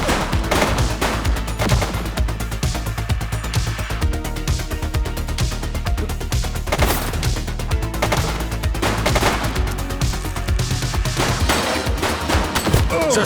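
Sustained gunfire in the police action game The Precinct, a dense, continuous barrage of shots rattling loudly through the whole stretch with no speech over it.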